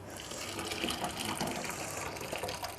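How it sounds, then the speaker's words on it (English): Cooked organic garden potatoes drained of their water, a steady rushing pour with splashing that stays loud and continuous throughout, with no voices. "Next, we're going to just drain our potatoes, which are cooked."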